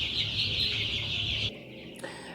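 Young two-week-old chicks on a poultry farm in Homabay county, Kenya, chirping and clucking as a dense, steady flock chorus close by. The sound cuts off abruptly about two-thirds of the way through.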